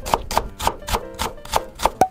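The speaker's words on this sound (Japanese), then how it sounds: "玉ねぎ2分の1個 120g の皮をむいて薄切り" Half a peeled onion, about 120 g, is thinly sliced with a kitchen knife for chikuwa-yaki: eight crisp, evenly spaced cuts in a steady rhythm, close and clear, with no talking.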